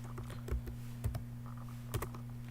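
Keys clatter on a computer keyboard while cell references are typed into an Excel spreadsheet, giving short bursts of close, quiet clicks over a steady electrical hum.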